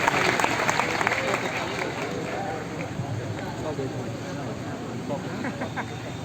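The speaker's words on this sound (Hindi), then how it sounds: "ताली बजाइए आप।" An audience at a quiz centre gathering applauds a rank holder, a dense sustained clapping crowd that stays steady and fairly loud from start to finish.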